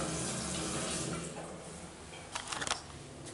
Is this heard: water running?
yes